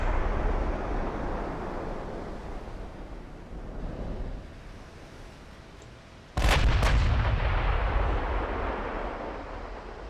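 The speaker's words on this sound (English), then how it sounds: "we've been firing our 17-inch guns" 17-inch naval guns fire in a dreadnought-era battleship game, a deep rolling roar that fades across the first seconds before a sudden massive report bursts in and rumbles on loudly to the end.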